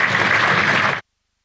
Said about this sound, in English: we'll just listen to the applause for Ollie Carter as he makes his way off the field